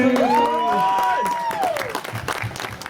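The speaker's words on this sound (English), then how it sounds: "Big round of applause to Mark." A convention Q&A audience for a feature film's cast and crew breaks into a round of applause, crowd clapping mixed with a sung or hummed voice gliding over the top before the clapping continues on its own.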